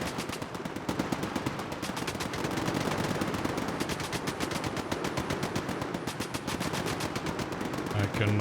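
Rapid automatic gunfire in a video game set in a swamp, dense bursts rattling on continuously and loud throughout, with a brief low thump near the end.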